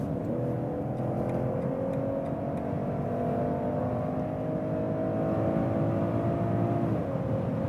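BMW 540i M Sport facelift with an inline six-cylinder engine, accelerating hard in sport mode from about 120 km/h: a steady, rising engine drone with tyre and wind noise heard from inside the cabin, no voices.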